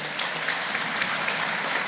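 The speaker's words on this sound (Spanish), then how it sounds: "Démosle un fuerte aplauso." A Baptist church congregation gives a round of applause at a service, a steady, moderately distant wash of clapping lasting a couple of seconds.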